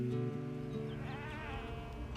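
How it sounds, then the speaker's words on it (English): Sheep from a band on open range bleat in wavering calls over a steady low background hum, moderately loud and continuous, with no talking. "Here we are, we got these bands of sheep and nowhere to go with them."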